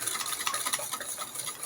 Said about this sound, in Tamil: இந்த தயிருக்கு தேவையான சால்ட்டை சேர்த்து இந்த பீட்டரை போட்டு இப்படி நல்லா விஸ்க் பண்ணணும்